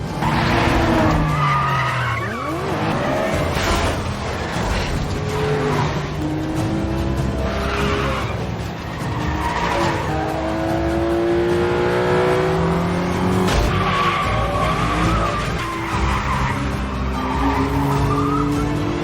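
Cars skid and squeal their tires over and over during a fast movie car chase, mixed with revving engines, impacts and dramatic music, loud and continuous throughout.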